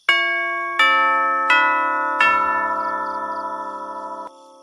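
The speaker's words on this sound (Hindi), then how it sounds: "दरवाजे की घंटी बजती है" A chiming doorbell rings four bright bell tones in succession, the last one sustaining and fading out, with nothing else around it.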